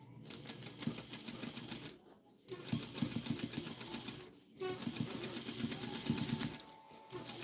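A sewing machine stitches a seam in bursts of rapid mechanical chattering, stopping briefly twice and starting again, close and fairly quiet.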